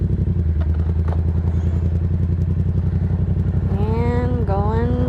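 Yamaha XSR700 café racer motorcycle rides in second gear with a steady, close, throbbing engine drone. A rising whine sweeps in near the end and a rider speaks briefly over it.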